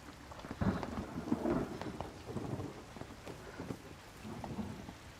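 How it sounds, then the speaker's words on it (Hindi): Heavy rain pours down steadily with a low rumble of thunder underneath, a dense, continuous wash of sound with no voices. "अचानक से बारिश आ गई।"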